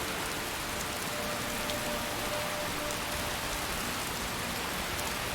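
Steady, dense rain in Skyrim Special Edition, an even hiss of drops falling on surfaces that holds unbroken at one level from start to finish, with no talking.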